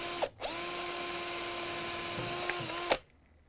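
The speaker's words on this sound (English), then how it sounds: "using the power drill with the 1/8 inch drill bit," Power drill with a 1/8 inch bit drilling out an old rivet on a Whirlpool/KitchenAid/Maytag freezer drawer slide, a steady high whine for about two and a half seconds after a brief start, close and loud.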